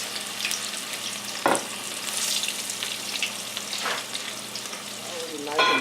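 Falafel fries in a pan of oil with a steady close sizzle and crackle, broken by a few brief sharp spikes as pieces are moved, with no talking.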